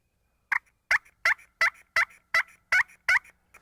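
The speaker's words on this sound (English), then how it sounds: "Let's go right to the push-pull call. This makes yelps." A push-pull turkey call gives a steady series of eight clear, evenly spaced yelps, close and alone in silence.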